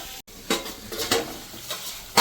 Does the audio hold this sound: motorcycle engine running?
no